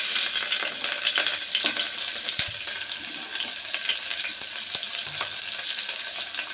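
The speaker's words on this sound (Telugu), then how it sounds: "ఆయిల్ అనేది హీట్ అయ్యాక ఈ విధంగా అన్నీ వేసేసుకోండి. బిర్యానీ ఆకు కూడా. సో ఇందులోనే ఆనియన్," Onion and bay leaf frying in hot oil for a vegetable rice dish, a steady, loud, close hiss of sizzling with occasional stirring taps.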